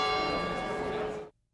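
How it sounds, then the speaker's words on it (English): A huge bronze clock bell struck by bronze Moor statues gives one loud, sustained ringing tone with rich overtones that holds for over a second and then cuts off sharply. "they're made of bronze and they strike the huge bell every hour on the hour"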